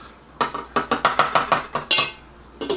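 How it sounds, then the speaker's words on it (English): A spoon scraping and clinking around a pan of chicken orecchiette sauce, nine or so crisp, evenly paced strokes close up, with a brief pause and then two more scrapes. "I'm gonna stir this one last time here"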